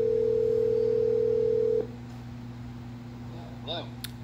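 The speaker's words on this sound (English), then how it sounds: "dial in an extension if you want" A Grandstream 2170 desk phone gives a steady dial tone for nearly two seconds, then goes quiet with a low hum and a brief faint beep near the end as an extension is dialed.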